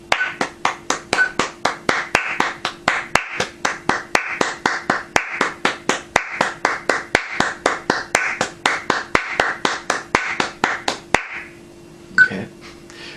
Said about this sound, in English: This time, we're going to be clapping 4 times per click.